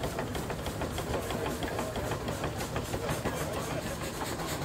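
A steam traction engine with saddle tanks on each side of the boiler runs at a threshing show, giving a steady, dense mechanical chugging and clatter at close range throughout, with no talk.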